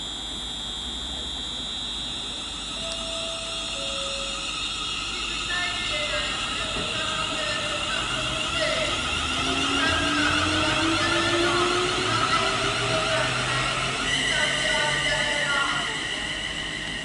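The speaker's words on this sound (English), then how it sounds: "departing now will be the 1120 London Northwestern Railway service to London Euston from Crewe." A London Northwestern Railway electric multiple unit departs Tamworth on the West Coast Main Line toward London Euston, a steady loud rolling drone with rising motor whine and squealing tones, close by, while someone talks over it.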